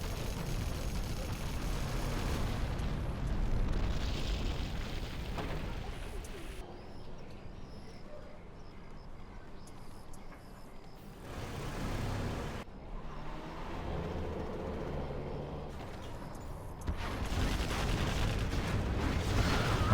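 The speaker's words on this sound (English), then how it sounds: "Nice flashbangs, very nice." Flashbang explosions in the real-time strategy game Generals Zero Hour: several loud, broad bursts and booms in quick clusters, separated by quieter stretches of battle noise.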